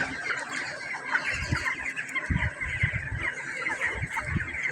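A flock of chickens clucks and murmurs continuously inside a hot poultry shed, the close calls layered over a steady background chorus.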